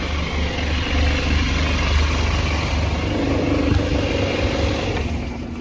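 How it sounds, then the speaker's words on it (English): A large Scania bus engine idles steadily nearby, a loud low rumble with a constant droning hum and no talking. "It's a Scania, so loud engine."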